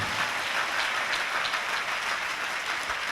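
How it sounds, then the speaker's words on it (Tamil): A church congregation claps steadily throughout, a dense, even burst of applause from many hands in a large room. "இன்னும் சத்தமா கைதட்டுங்க"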